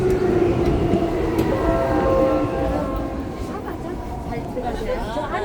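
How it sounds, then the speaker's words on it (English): A Seoul subway train rumbles into the platform behind double safety doors, a loud continuous roar with rising squealing tones as it slows, while voices murmur nearby. "here comes the train"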